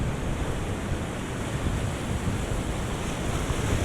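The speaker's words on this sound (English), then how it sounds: "look at that wave over here" Ocean waves break continuously and loudly on the rocky shore of the Wales coast at Nash Point, a steady roaring wash of surf with wind buffeting close to the microphone.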